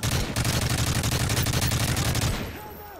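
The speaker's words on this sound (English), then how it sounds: "Oh, I'm getting shot at." Rapid, dense automatic gunfire from a Call of Duty MW3 match rattles loud and close for over two seconds, then cuts off into a fading echo and quieter game ambience.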